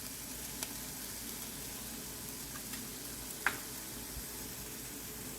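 Sliced onions sauté in a pan for Indo-Chinese chilli paneer, giving a steady, even sizzle with a few faint clicks of stirring. No voices.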